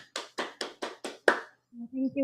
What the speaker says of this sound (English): let's welcome with a warm applause Toastmaster Zara Ibrahim